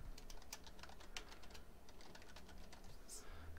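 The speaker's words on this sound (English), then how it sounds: "type in the text" Typing on a computer keyboard, with rapid irregular key clicks close by at a low level over faint background hum.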